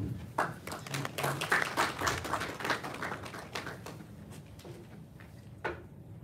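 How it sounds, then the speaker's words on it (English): A small audience at an environmental compliance event gives a sparse round of applause, scattered individual claps close to the microphone that thin out and fade after a few seconds. "Can we have a round of applause, please?"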